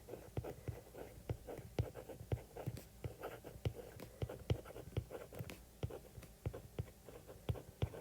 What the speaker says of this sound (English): I'm writing L to R as left to right.